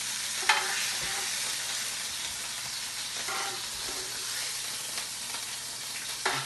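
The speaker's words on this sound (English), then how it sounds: "You can still hear that sizzle." Beef sizzling in a roasting pan, a steady low frying hiss with occasional pops and stirring clatters, close and fairly quiet, with no talking.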